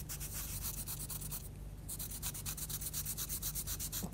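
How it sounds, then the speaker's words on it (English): Paper blending stump rubbed back and forth on a sandpaper block, a steady close scratchy rasp in quick regular strokes with a brief pause midway, heard alone. "Best way is on a sandpaper block, and you just give it a rub over the sandpaper"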